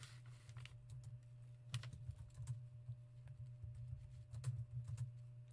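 Quiet, close keyboard typing with irregular clicks and short bursts of keystrokes over a low steady hum.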